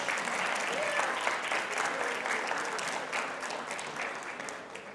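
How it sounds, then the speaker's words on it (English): An audience at a school salute ceremony gives sustained applause, a dense, even wash of many hands clapping that holds steady and fades slightly toward the end. "Please give your parents and guardians and well-wishers a round of applause."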